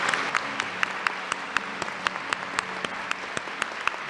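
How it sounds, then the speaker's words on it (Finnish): Steady applause from a large audience in Helsinki, Finland fills the whole stretch, with sharp claps cutting through at a fairly regular rhythm. "Eli suuri aplodi meidän mestarille tässä."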